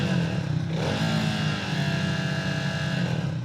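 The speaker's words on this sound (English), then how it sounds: "the rattling sound was still there. I know it was from the exhaust" A Triumph Speed 400 motorcycle idles steadily nearby with a rattle from its exhaust, a continuous low engine drone lasting throughout without speech.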